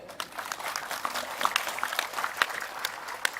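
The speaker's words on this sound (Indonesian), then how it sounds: "Tepuk tangan dulu deh." An audience at a religious talk gives brief, moderately distant applause, a soft crackling patter of many hands with a few sharper individual claps standing out.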